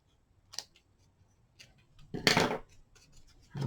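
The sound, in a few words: scissors snipping off ends in a craft project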